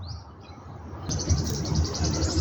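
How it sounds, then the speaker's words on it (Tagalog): A small bird calls near its tiny nest outdoors, sending a run of quick, bright chirps that start about halfway through and repeat steadily at moderate volume over a low background rumble. "Loko tong ibon na to."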